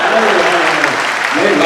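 An audience applauds at a comedy mushaira at Chandivali Film Studio, a dense, steady wash of clapping from a large crowd that fills the whole moment, with a voice faintly audible underneath.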